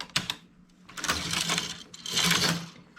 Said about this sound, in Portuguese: colocar uma agulha na máquina, fazer uma laçada nela, tecer 2 carreiras